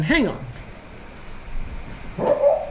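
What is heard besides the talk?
dog barking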